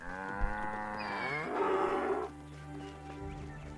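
A cow in Assassin's Creed Origins gives one long, loud, drawn-out moo that rises and then fades, followed by quieter game ambience.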